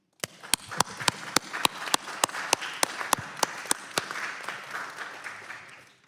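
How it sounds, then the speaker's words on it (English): Applause at a House Financial Services Committee hearing, with a few sharp, evenly spaced claps standing out over a modest spread of clapping that thins and fades toward the end. "Can we give them a round of applause?"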